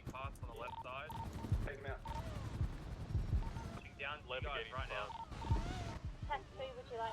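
Gunfire in GTA roleplay on the Daybreak RP server, sharp shots scattered through the scene under near-constant talking and radio chatter.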